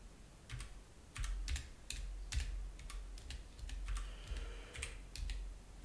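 Steady clattering of a computer keyboard as someone types code, with quick bursts of keystrokes spread through the clip at close range and no talking.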